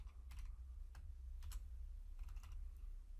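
Several quick keystrokes on a computer keyboard typing a short variable name, spaced clicks over a steady low hum, fairly quiet and without voices.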